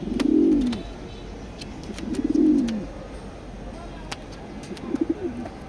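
Grizzle pigeons at a pigeon loft give low, rolling coos three times at a moderate distance, with soft clicks and scuffling in between.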